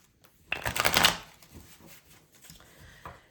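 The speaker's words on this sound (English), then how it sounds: "the first thing I'm going to do is shuffle this Naturescapes" A deck of Naturescapes tarot cards is shuffled up close, a quick burst of riffling card flutter followed by softer scattered taps and shuffles, with a faint voice murmuring briefly.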